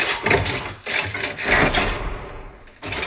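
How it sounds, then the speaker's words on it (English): Designed Transformers mechanical effect of metal pieces combining into mechanisms: grinding, rasping metallic bursts in several surges, loud and close, ending with a short final hit after a brief gap. "that's the sound of metal combining to create all the mechanisms coming into"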